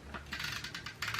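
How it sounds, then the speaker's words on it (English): A Tombow Mono Dots adhesive tape runner rolls across paper while a DIY paper bag is glued down, giving close, soft clicking and ratcheting bursts in a quick uneven rhythm. "I'm using the Tombow Mono Dots adhesive for this part here"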